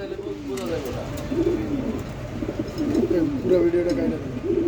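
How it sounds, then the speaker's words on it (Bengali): A pair of Red Indigo fancy pigeons on a loft farm coo in repeated low rolling phrases, close and fairly loud, over a busy background with some voices. "দর্শক এখানে দেখতেছি এক জোড়া রেড ইন্ডিগো শৌখিন কবুতর।"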